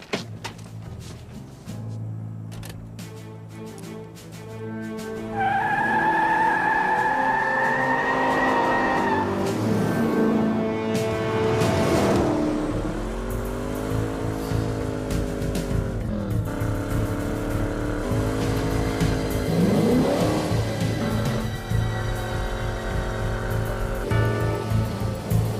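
A car revs hard and accelerates through a chase, engine pitch rising and falling over sustained loud roar with tire squeal, continuous and close throughout.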